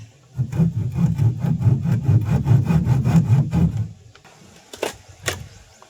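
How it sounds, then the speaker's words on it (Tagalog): Hand sawing wood while building a boat, about four seconds of rapid, rhythmic rasping strokes close up, then a pause and a few separate knocks. "Lagari muna tayo guys."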